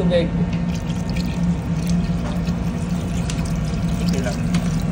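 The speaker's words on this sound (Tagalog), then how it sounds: "Lagyan natin ang magic water, tubig." Water pours steadily into a cooking pot of beef stew with tomato sauce, a continuous splashing stream with a low background hum running beneath it.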